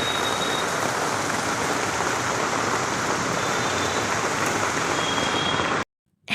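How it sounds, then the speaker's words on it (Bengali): Heavy rain pours down in a steady, dense hiss that stays loud and unbroken for several seconds before cutting off abruptly. "আবারও সেই জোরে বৃষ্টি পড়া শুরু হয়ে গেছে"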